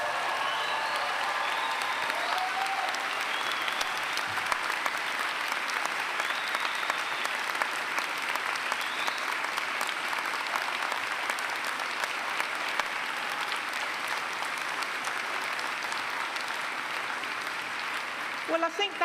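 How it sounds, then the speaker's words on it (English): Graduation ceremony audience applauding and cheering for graduates, a large hall of steady clapping with faint whoops, sustained evenly for nearly twenty seconds. "Well, I think that was really a very polite cheer and round of applause."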